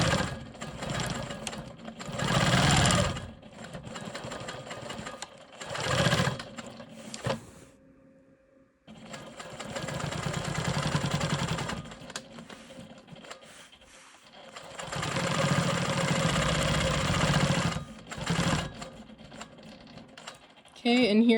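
A Quilt Maker Pro 20 quilting machine stitches around a small triangle in long, fast, chattering runs. The loud, close runs stop briefly now and then, and a faint voice sits low under the stitching.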